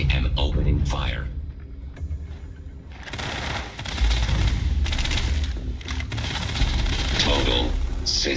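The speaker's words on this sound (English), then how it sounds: "I am opening fire." Starship weapons open fire in Starfield, with rapid, rattling bursts of shots and mechanical clatter repeating over several seconds beneath a voice speaking.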